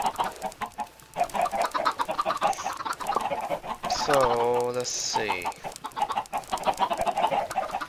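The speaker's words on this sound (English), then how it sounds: "So our chicken farm is done." Minecraft chickens cluck on a farm in the game, a few short bursts of squawks in the middle with steady game noise and brief talk around them.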